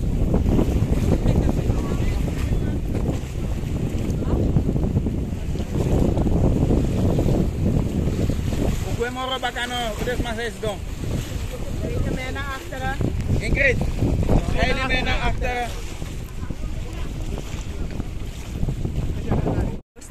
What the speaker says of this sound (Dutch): nu gaan we met onze privéboot naar de overkant